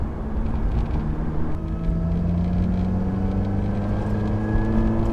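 Vehicle fitted with an RPM Motorsports Stage 2 exhaust kit, a steady loud engine drone with a slowly rising pitch as it revs, heard close and without talk.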